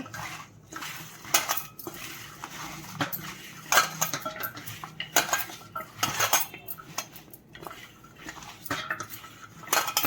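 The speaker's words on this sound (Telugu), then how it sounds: "మైదా మైదా పిండి రెండు చెంచాలు నేను ఇలాగ కలుపుకోవాలి ఇలాగా" A spoon stirs maida flour batter in a bowl, producing quick, repeated scraping and clinking strokes against the bowl, close and fairly loud in an uneven rhythm.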